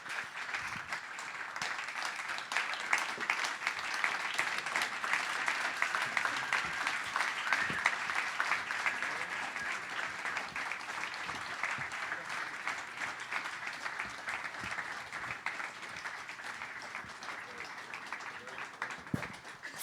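An audience at a connected-commerce demo event applauds the companies on stage, a long, even wash of clapping that runs on for about twenty seconds at moderate distance, with murmured voices mixed in.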